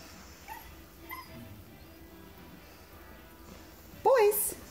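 Soft, high puppy whimpers and yips come faintly a few times, then a person calls out loudly near the end.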